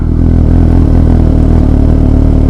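Dirt bike engine idling steadily and loud up close while the clutch is eased out slowly, a continuous low rumble with a faint rise as it starts pulling forward.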